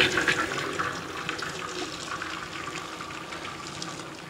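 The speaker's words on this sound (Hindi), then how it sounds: "चूल्हा हम ऑफ कर देंगे, इसका पानी निकाल लेते हैं।" Water pours and splashes steadily from a pot of boiled food as it is drained during cooking of a sweet dish, a close, continuous gushing that is strongest at the start and eases to a trickle.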